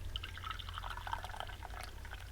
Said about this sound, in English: I'm pouring my nice hot cup of coffee